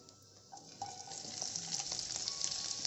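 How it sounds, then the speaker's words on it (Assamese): Chopped onions sizzle and crackle in refined oil in a pan, the frying hiss building steadily louder with a few light clinks and stirring sounds close by. "তাতে মই ৰিফাইন অইল এড কৰিছোঁ। তাৰপৰা আমি ইয়াত এড কৰিম মোৰ কাটি থোৱা পিঁয়াজখিনি।"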